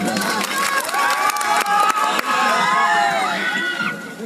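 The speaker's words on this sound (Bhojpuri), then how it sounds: "तो एक बार जोरदार ताली अंकुश और राजा खाती बता दीजिए" A live Bhojpuri stage show audience claps and cheers loudly, a dense wash of applause with shouts and whistles running steadily throughout, with voices calling out over it.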